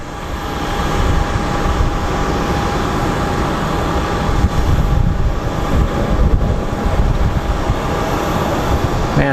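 Airliner taking off from Phoenix Sky Harbor airport, a steady broadband jet roar that stays loud and dense throughout, with no talk over it.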